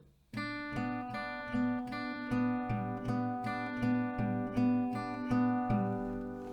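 An acoustic guitar plays a slow fingerpicked chord pattern, notes plucked one after another in a steady, even rhythm with ringing sustain.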